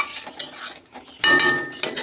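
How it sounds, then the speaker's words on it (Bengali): Dried fish being stirred in a metal cooking pan, with bursts of scraping and clinking of a utensil against the pan separated by brief quiet gaps. "ভালো করে নাড়াচাড়া করে দিই শুকনো মাছগুলো"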